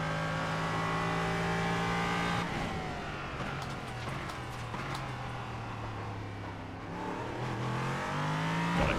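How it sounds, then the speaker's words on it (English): An LMP3 prototype race car engine in a racing video game drones steadily and loudly, its pitch shifting as the car brakes, downshifts and accelerates through corners, with no voices. "just learn to listen to the noise of the engine as well"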